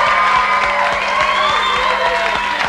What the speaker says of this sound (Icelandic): Við skulum klappa fyrir henni líka.